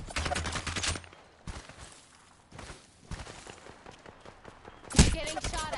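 Gunfire from an enemy squad in Apex Legends, bursts of rapid shots in the first second and a loud close crack near the end, with scattered thuds and footsteps between and game chatter underneath.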